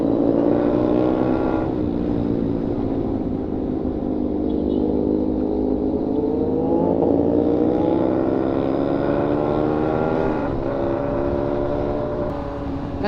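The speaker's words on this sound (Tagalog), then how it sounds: "bagong motor na yan, lipad jack oh. ZH2, yung supercharged ng Kawasaki." A supercharged Kawasaki ZH2 motorcycle on a coastal road ride in Casigura, Aurora, with a loud steady engine drone whose harmonic pitch rises and falls smoothly as it accelerates and shifts, heard from on board with wind noise.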